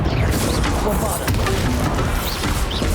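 A Bombarda blasting spell from Hogwarts Legacy lands amid a hectic spell duel, with heavy crashing impacts and thuds over dense continuous noise, loud and close throughout.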